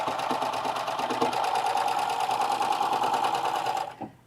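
A Baby Lock serger runs at steady high speed, stitching and knife-cutting fabric for little boys' shorts, a loud continuous whirring hum that stops abruptly near the end.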